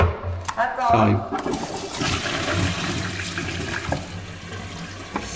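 Water rushes loudly through a flushing toilet in a WC, gushing and swirling close to the microphone, with a brief voice heard near the start.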